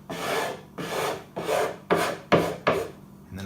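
A 180-grit sanding block rubbed along edge banding, six evenly spaced rasping strokes that grow slightly sharper toward the end, close and clear with no voices.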